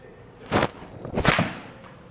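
Two quick whooshing swings of a fairway wood golf club sound close in a club-fitting session, the second ending in a bright, sharp strike on the ball.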